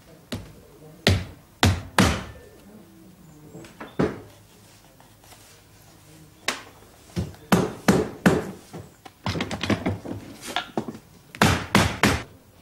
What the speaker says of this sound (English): Firmly nailed in place, there's no chance of this heel falling off.